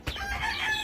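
A pet bird gives a short bright call, near and clear, beside a little girl at home.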